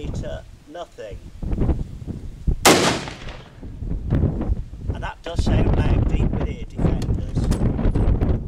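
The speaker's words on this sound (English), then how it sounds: "I will be firing at least three through this muzzle brake to check on the grouping" A rifle fitted with a muzzle brake fires a single sharp, loud report partway through, surrounded by wind buffeting and someone talking before and after.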